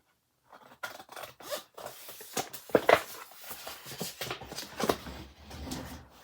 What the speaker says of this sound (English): long scissors